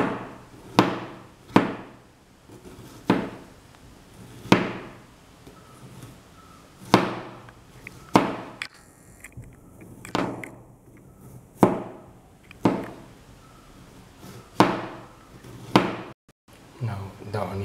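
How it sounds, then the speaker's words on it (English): A knife chops onions into slices on a board, with about a dozen sharp, solid strikes at a slow, uneven pace, each ringing briefly before fading, close and distinct. "Now the onion has been cut into small slices."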